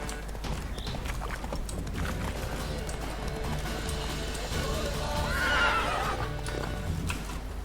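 Roach, the horse from The Witcher 3, runs with a steady stream of hoofbeats, then lets out a clear whinny midway that swells and fades before the running continues.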